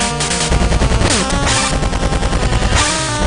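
Rapid bursts of boss fire rattle in a loud, dense barrage from Mega Man 5 on the Game Boy, layered with chiptune music and constant game effects, with no voice.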